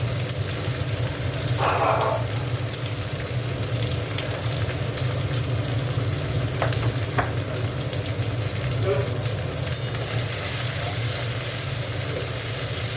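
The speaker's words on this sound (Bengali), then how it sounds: "মশলাটাকে ভালো করে একটু কষে নেব।" Ground cumin, chili and turmeric fry in hot oil for a cauliflower and potato curry, a steady close sizzle with occasional scraping stirs throughout.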